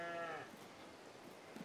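A Holstein cow in the video game Farming Simulator 22 gives a single close, drawn-out moo that fades into quiet game ambience.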